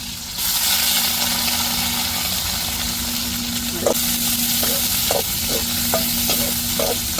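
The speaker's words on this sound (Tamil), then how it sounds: "நெத்திலியை நல்லா அலசி எடுத்தாச்சு எண்ணெயில் போட்டு அப்படியே பொறிச்சு எடுத்துருவோம்" Washed anchovies fry in hot oil with a loud, continuous sizzle from start to finish, while a spoon knocks against the pan several times in a loose rhythm during the second half.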